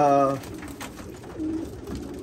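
Racing pigeons coo softly in a loft, low murmuring calls that come and go close by over a steady background murmur.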